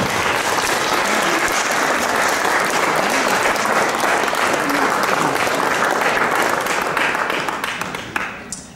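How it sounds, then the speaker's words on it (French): A concert audience at a national accordion competition applauds a young Lithuanian accordionist with loud, sustained clapping that fills the room and begins to thin out near the end. "On l'applaudit."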